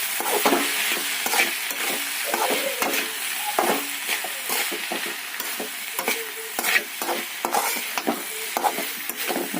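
Ivy gourd stir-fry sizzles in coconut oil in a pan while a spoon stirs and scrapes repeatedly, producing a continuous close-up hiss punctuated by irregular clacks.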